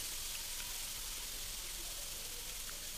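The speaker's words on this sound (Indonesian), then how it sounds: "Kemudian kita tambahkan air seduhan asam jawa ya." Spiced paste for a tofu dish frying in oil as tamarind water is poured in, giving a steady, close, broadband sizzle that holds evenly throughout with no talk over it.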